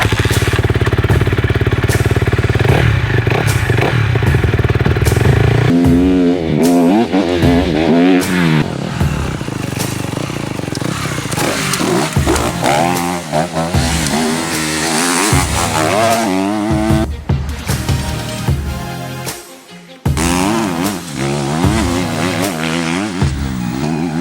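A Honda CRF250R dirt bike on trials tires rides off-road, its single-cylinder engine loud and close, revving up and down continuously as the rider shifts and throttles through the loop.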